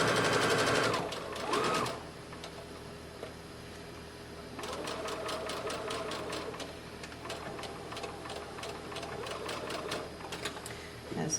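A sewing machine runs close by, stitching the seam of an 18-inch doll dress in two long bursts of rapid, even needle clatter, with a short pause between them.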